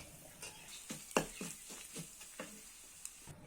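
Ground spice paste of garlic and green chili frying in a pan, with a soft, quiet sizzle broken by light scraping clicks of stirring, close and without talk.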